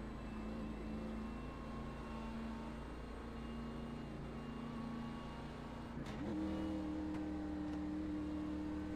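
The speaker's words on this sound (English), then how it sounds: "Hear him downshifting, most likely into 2nd gear" A race car at Talladega holds a steady engine drone, then shifts down with a sudden jump in pitch and loudness near the end, heard from a distance without talk.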